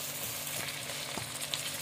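Onions frying in mustard oil in a pan, a steady close sizzle with faint crackles throughout, no talk.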